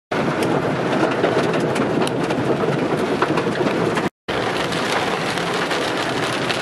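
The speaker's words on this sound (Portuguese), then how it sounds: "vê que é chuva localizada aqui nessa região" Heavy rain pours down steadily in the countryside of northern Paraná during a quad bike ride, a dense close hiss of drops with no talk, cut by a short silent gap before resuming.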